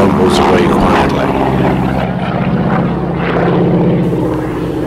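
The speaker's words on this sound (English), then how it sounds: "This sound comes from the propeller wingtips, which are going at near the speed of sound." Loud, close heavy propeller aircraft at an airshow, with a buzzing, rasping drone from propeller tips near the speed of sound that pulses steadily.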